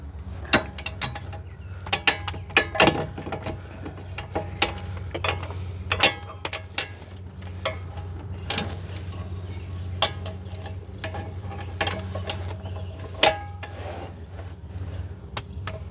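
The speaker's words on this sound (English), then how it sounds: "Spin all the way out with the impact." An impact wrench spins a bolt out of the rear wheel hub of a 2019 Chevy Equinox during a bearing replacement, making a steady mechanical rattle with sharp ticking clicks over a low hum. The sound is close and continuous, with no talking.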